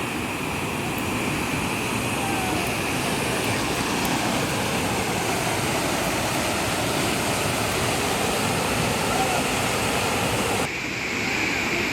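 Kukdi Khapa waterfall pours in a dense, constant roar of rushing water, loud and enveloping from start to finish, with a brief dip in intensity near the end.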